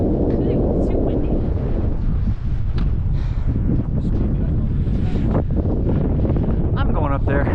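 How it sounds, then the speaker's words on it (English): Strong wind on a mountain trail near Sacagawea Peak roars loudly and constantly, buffeting the microphone throughout, with faint voices briefly audible underneath. "It's too windy."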